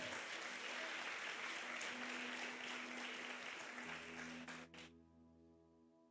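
Church congregation applauding during a Portuguese-language sermon, a steady broadband clapping that holds for about four seconds and then tapers off, leaving a faint sustained tone before a sharp noise at the very end.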